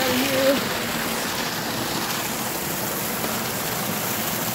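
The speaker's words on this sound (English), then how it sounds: "now we obviously have a crazy stream of water coming out of there now" A strong stream of water gushes steadily from a water pump outlet during a head pressure test, a loud continuous rushing wash that stays even throughout after a brief voice at the start.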